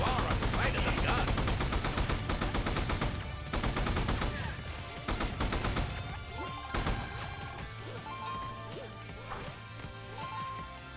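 Rapid gunfire and crashing impacts from the video game Rad Rodgers, a dense stream of loud shots and smashes that later thins to scattered bursts.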